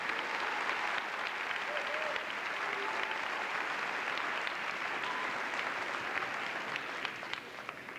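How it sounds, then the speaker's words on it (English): A school concert audience gives steady, dense applause for a sixth grade band, heard from within the crowd at moderate loudness for several seconds. "Let's give them another round of applause."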